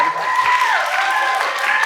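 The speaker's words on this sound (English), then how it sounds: "please join me in a round of applause as our panelists come up on stage" Audience at an art gallery panel event applauds as panelists walk onto the stage, a steady, fairly close wash of clapping with a voice speaking over it.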